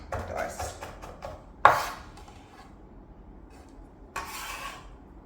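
A knife roughly chopping vegetables on a board: a quick run of light taps, then one sharp loud chop, a pause, and a final burst of cuts, close and alone.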